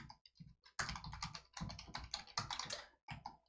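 Quick bursts of keystrokes on a computer keyboard as a command is typed into a terminal, close and fairly quiet, with short pauses between clusters of clicks.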